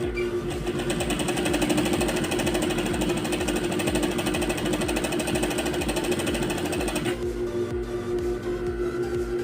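Sewing machine fitted with a shirring foot stitching fabric, a loud fast rhythmic mechanical rattle running steadily and close, no talk.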